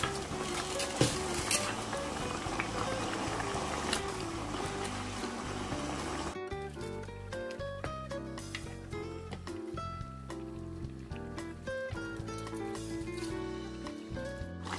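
Chicken pieces go into a pot of simmering coconut milk for ayam besengek, with a soft sizzle and bubbling giving way to clinking spoon stirs and scraping against the pot, all quiet and close, with background music and no speech.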